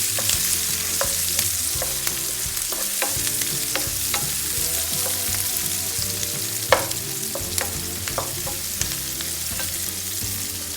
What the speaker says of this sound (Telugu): కొద్దిగా చాలా ఫ్రై చేయకుండా మామూలుగా ఫ్రై చేసుకోవాలి